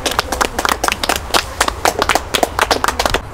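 A small group claps in quick, uneven bursts, sharp hand claps close by and fairly loud, continuing steadily for a few seconds.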